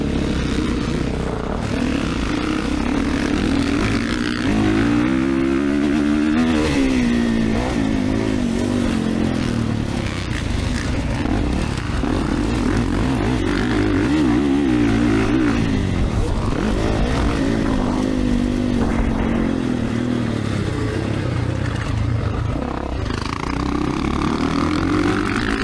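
A 2024 Kawasaki KX450 motocross bike ridden around the Eugene MX track, its engine droning loud and continuous with repeated revving rises and falls as it accelerates and shifts.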